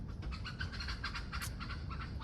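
A chicken clucks and squawks in agitated bursts while being chased, with scuffling and rustling underneath throughout.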